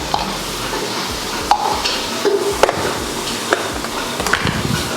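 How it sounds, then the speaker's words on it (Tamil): Ground masala fries with sautéed tomatoes for mutton biryani, sizzling steadily up close while a spoon stirs and knocks against the pan at irregular moments. "இப்போ இந்த மசாலாவை சேர்த்துடலாம்"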